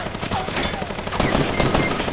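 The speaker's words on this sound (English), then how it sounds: "Oh, this guy has a machine gun." Sustained automatic machine gun fire in a Fortnite 50v50 match, a dense, loud, continuous rattle of shots overlapping other gunfire throughout, with no voices.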